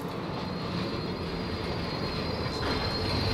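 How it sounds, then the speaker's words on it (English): Train rolling past in the video game Dishonored 2, a steady loud rumble and clatter of railcars with a faint metallic wheel squeal rising near the end. "Oh, is that signaling a train coming?"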